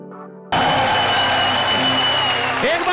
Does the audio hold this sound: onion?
no